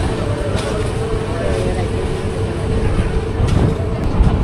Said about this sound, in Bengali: এখন আমাদের ট্রেন ছাড়লো কসবা থেকে